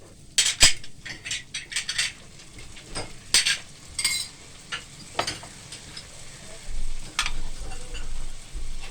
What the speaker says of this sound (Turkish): Biraz ben pilavlarımızı kavurayım